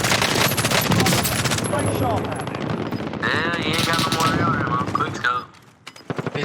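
Automatic rifle fire in the Warzone video game, from AX and ACR rifles, rattles in dense rapid bursts for most of the stretch and fades out near the end, with voices talking over it.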